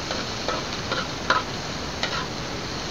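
Kabibe shells cook in a hot pan, giving a steady sizzling hiss with scattered sharp pops and spatters throughout, close and fairly loud.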